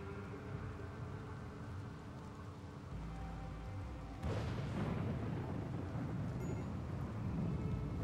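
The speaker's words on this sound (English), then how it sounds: "Good old thunderstorm. At least it's a rainy one and not just a standard one." A rainy thunderstorm in the video game Rimworld, a steady rain hiss that swells with a low thunder rumble partway through, alone without talk.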